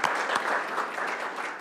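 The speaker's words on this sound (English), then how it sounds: "could you guys give her a round of applause?" At a public budget hearing for a city school district, the audience gives a short burst of applause, many hands clapping briskly for under two seconds.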